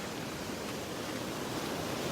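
Ocean waves roll in at a beach at Delnor-Wiggins, making a faint, continuous wash of surf with no distinct breaks.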